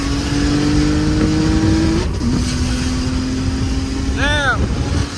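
BMW E90 335i single-turbo car engine humming steadily from inside the cabin, a sustained tone that dips briefly before resuming, with a short chirping sweep near the end.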